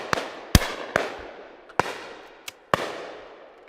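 Shotguns fire at a game shoot on Long Mountain, Leighton: five or six sharp outdoor reports spaced irregularly over a few seconds, each with a long fading tail, no talk.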